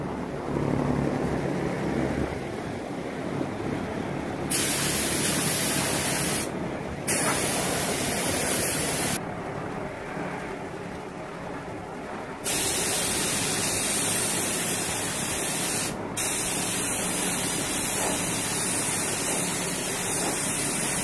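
Spray gun coating a GTO front bumper with a final coat of paint: a loud, continuous airy hiss that stops and restarts in several bursts.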